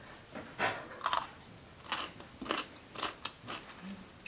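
Crisp bites and crunchy chewing on a fermented carrot, about eight sharp crunches at an uneven rhythm, close and fairly loud with no talking.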